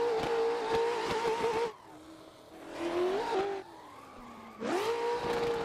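A BMW E36 drift car screams through e-brake drifts on a mountain road, its engine howling at high revs with tire squeal, dropping away briefly between slides, then surging loud again as it pulls out.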